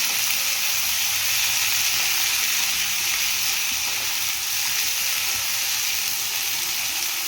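Vegetables for a vegetable kurma sizzle and crackle steadily in a hot pan, a constant loud frying hiss with no talking.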